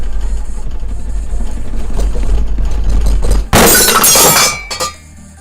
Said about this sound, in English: let's see if we break any glass